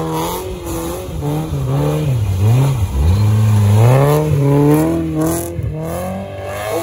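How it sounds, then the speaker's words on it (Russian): A UAZ off-road vehicle at an off-road race revs its engine hard and continuously, the pitch rising and falling in loud, close sweeps. "У Валеры мотор крутит"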